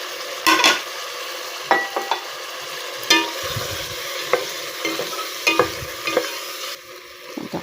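Ampalaya, okra and chili stirred together in a pan for ginataang gulay, with a soft sizzle beneath repeated scraping and clattering strokes of a utensil against the pan at an irregular pace.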